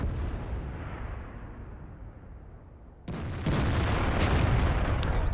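Tank cannon fire in the online game World of Tanks: a booming shot decays slowly, followed by a sharp new blast and further impacts, loud within the game's continuous sound.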